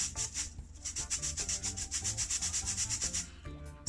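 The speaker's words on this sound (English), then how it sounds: "Sieving it, just combine all the ingredients together, and it makes the flour become more light, fluffy." Flour, salt and spices being sieved for a Jamaican toto coconut cake, giving a steady rhythmic rubbing and scraping against the mesh that repeats for several seconds, close and fairly loud, with no talking.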